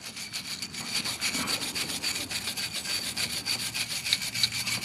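A brush scrubbing a brake caliper bracket on a Can-Am Spyder F3, quick rhythmic back-and-forth bristle strokes close by, moderately quiet and steady with no talking.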